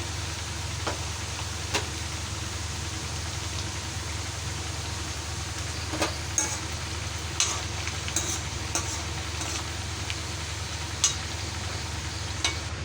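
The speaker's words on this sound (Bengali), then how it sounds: "এটাকে মিডিয়াম ফ্লেমে ভাজবেন, নাহলে ভিতরটা কাঁচা থেকে যাবে।" Steady crackling sizzle of homemade biscuits frying in hot oil over a medium flame, continuous throughout, with occasional sharper pops and clicks; no voices.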